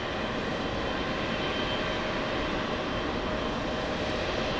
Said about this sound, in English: Next arrival is a flight from Haneda, All Nippon 110